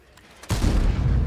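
A single heavy tank cannon shot fires in the World of Tanks video game, a sudden loud boom that cuts in after a quiet moment and rumbles on without talk.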